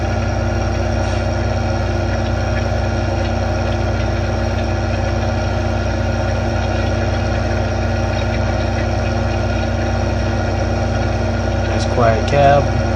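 A tractor engine idles steadily in Farming Simulator 2015 during Case IH tillage work, a loud, even low drone with a constant hum that carries on unchanged, with a brief higher-pitched sound near the end.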